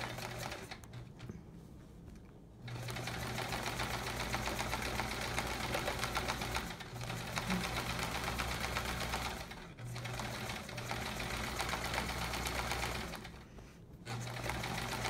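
Free-motion quilting on a sewing machine, its needle stitching in a fast steady chatter with brief pauses between runs, close and even throughout.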